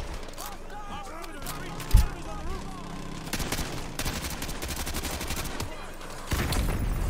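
Sentry gun killstreak in Call of Duty Modern Warfare 2 Remastered firing dense automatic bursts, with one loud thump early, sustained rapid gunfire through the middle and a heavier burst at the end, under a player talking.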